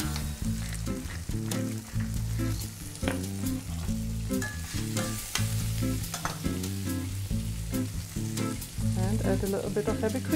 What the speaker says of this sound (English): the only thing I have to do with this asparagus is to heat it and add a little bit of pepper